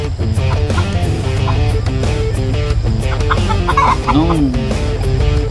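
A Gilmore Sweater Hatch gamefowl rooster clucks repeatedly and close by over a steady tonal background hum.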